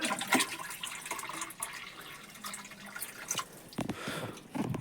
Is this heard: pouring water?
yes